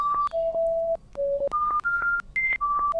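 A horror robot test in The Prototype gives out a string of sharp electronic beeps, eight or so tones at shifting pitches, some short and some held, clear and fairly loud against near silence.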